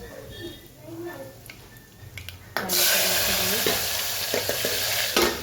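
Mustard seeds, cumin and asafoetida hit hot oil, and a loud, broad sizzle bursts up suddenly and then holds steady with crackles, after quieter kitchen clatter and someone talking, which continues over the frying.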